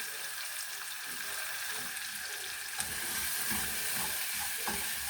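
Onions sizzle softly in a pan as they are stirred, a continuous crackling fry with scraping spoon knocks and clicks scattered throughout.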